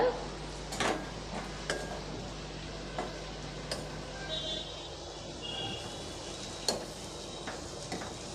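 Potato fry being stirred with spice powder in a pan: a low steady sizzle runs throughout, broken by scattered soft scrapes and taps of a spoon against the pan at irregular intervals, fairly quiet.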